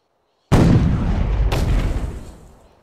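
Mortar fire in Assassin's Creed Chronicles India: a sudden heavy boom out of silence, quickly followed by a second blast, both rumbling and slowly fading.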